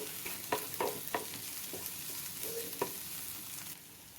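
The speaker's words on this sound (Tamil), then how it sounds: "இந்த ஆனியன் வந்து ஃப்ரை ஆகிறதுக்காக கொஞ்சமாக உப்பு சேர்த்துக்கிடலாம்" Onions for Sri Lankan fish sambol fry in a pan with a soft sizzle, broken by several sharp scrapes and clicks of a spoon stirring, all close by with no talking.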